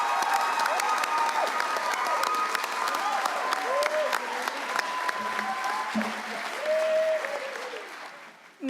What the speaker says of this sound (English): Let's have one last round of applause for 2016 cohort.